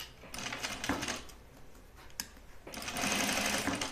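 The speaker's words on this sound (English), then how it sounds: "So we're just trying to sew one through." A sewing machine bastes a seam on a pair of jeans, running in short bursts with pauses and clicks between them, then settling into a longer steady run near the end.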